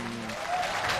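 Applause at a university ceremony where a head of state receives an honorary doctorate, a broad wash of clapping that swells and stays steady through the short moment, with no voices standing out.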